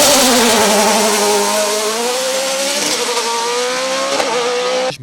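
A Norma E2SC race car's 3-litre Mugen Honda engine screams close by at the 2018 Chamrousse hill climb, its pitch climbing and shifting as it revs hard through the gears, with no talking.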